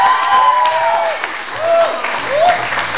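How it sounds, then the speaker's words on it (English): Crowd applause with whoops and cheers for fourth-year students at an evening event, a dense wash of clapping with high shouted cheers rising and falling across the moment. "let's give a round of applause naman for the fourth-year students."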